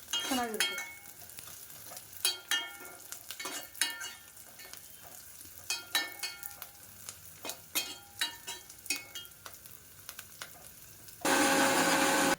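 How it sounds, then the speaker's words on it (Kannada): Onions frying in a pan for tomato sambar, a spatula scraping and stirring close up in irregular strokes over a soft sizzle. A sudden loud, steady whirring sound cuts in for the final second. "ಈಗ ಈರುಳ್ಳಿನೂ ಚೆನ್ನಾಗಿ ಫ್ರೈ ಆಗಿದೆ"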